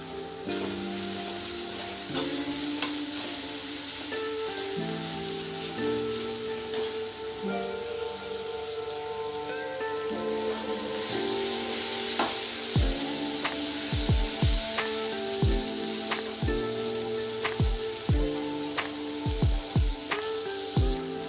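Spice masala of red chilli powder and coriander powder roasting in a pan for paneer bhurji, a steady close sizzle with occasional sharp taps of a spoon against the pan, no talking.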